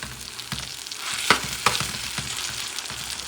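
Shrimp and other seafood sizzle steadily in a hot pan a couple notches above medium for Spanish seafood rice, a continuous close crackle broken by a few sharp pops and stirring scrapes.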